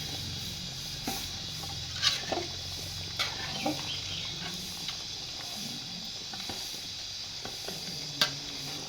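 Mutton biryani masala simmers and gets stirred in a pot, with a steady low bubbling sizzle and occasional soft scraping clinks from the spoon, and no voices.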